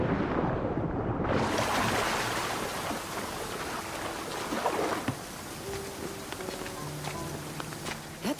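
Waterfall in Assassin's Creed Odyssey, a dense steady roar of falling water that swells in after a brief quiet start and continues nearby with faint clicks and tones over it.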